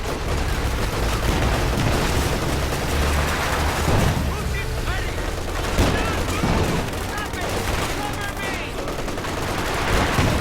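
Dense, continuous gunfire in a video game battle, overlapping rapid bursts and single shots with occasional heavier booms, loud and sustained throughout with a voice calling out over the shooting.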